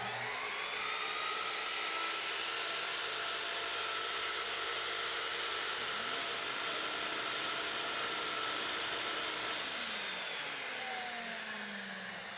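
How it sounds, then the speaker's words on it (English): A vacuum cleaner runs steadily on an EGO 56-volt 3000-watt Nexus portable power station during an overload test alongside a skill saw, giving a loud continuous whine and broadband hiss that holds evenly throughout, with no talk. "then kick on a vacuum."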